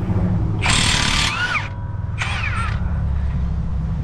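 A Milwaukee high torque impact wrench works a CV axle nut on a 2016–2018 Honda Pilot, sounding as two loud, close hammering bursts, the first longer and the second briefer, with low shop noise underneath.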